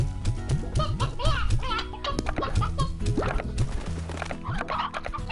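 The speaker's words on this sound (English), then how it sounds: "Put all these chickens in here." Chickens in the video game Slime Rancher cluck and squawk in a busy, overlapping flurry close by, over layered game sounds and music.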